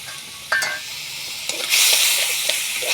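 Spices sauté in hot oil in a pan while cooking potol chingri, with a steady sizzling hiss, a few clinks and stirring sounds, and the frying growing louder partway through.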